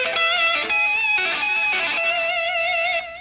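Distorted electric guitar plays octave notes plucked behind the thumb with the second finger, a steady sustained run of bright, harmonically rich tones with small pitch bends, loud and alone without any voices.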